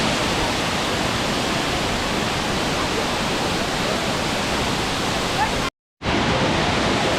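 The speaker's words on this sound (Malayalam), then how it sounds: "ഈ ഒരു വാട്ടർഫാൾസ് ഒട്ടും പ്രതീക്ഷിച്ചില്ല ഇത്ര അടിപൊളിയാണ്" Manneera waterfall pouring steadily, a loud, dense broadband roar close by that holds constant, broken by one brief dropout near the end.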